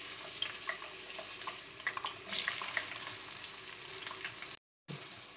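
Fenugreek seeds and sliced onion fry in oil for a fish curry with a soft, steady sizzle and light stirring clicks, a brief louder splash midway and a short silent gap near the end.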